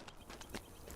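Horse hooves clip-clop steadily in the video game LOTRO, a rhythmic walking gait of a few soft, evenly spaced knocks over a constant low background hum.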